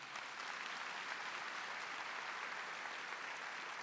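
A church congregation applauds during a Catholic charismatic service, a uniform, steady rush of many hands clapping, heard from some distance and fairly soft, with no voices over it.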